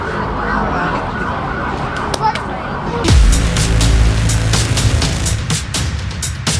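Ambulance siren on a bar street in Louisiana, wailing over loud street noise and traffic, with sharp percussive knocks and clatter around it.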